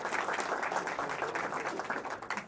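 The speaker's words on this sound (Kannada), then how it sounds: "ಅವ್ರಿಗೊಂದು ಜೋರ ಚಪ್ಪಾಳೆ ಹೊಡೀರಿ" Audience applause at a Kannada stand-up comedy show: a brief, steady wash of clapping from a crowd, moderately loud and continuous throughout.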